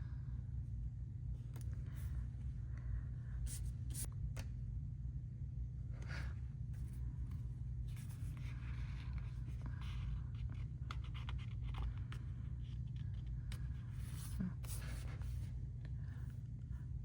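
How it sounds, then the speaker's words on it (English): A pen writing meals into an EC Daily Duo planner, with faint scratchy strokes and light taps scattered over a constant low rumble throughout. "And then I'm gonna write the meals down here."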